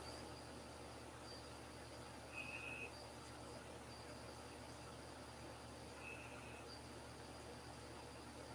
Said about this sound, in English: the cricket that's loud